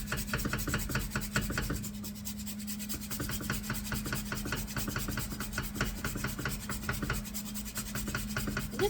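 Nuts are grated by hand on a grater, producing a continuous fast scraping rub, rhythmic and close, with a steady low hum in the background throughout.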